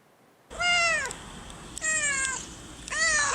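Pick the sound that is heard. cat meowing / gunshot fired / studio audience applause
cat meowing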